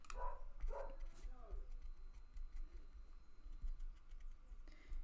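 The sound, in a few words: dogs barking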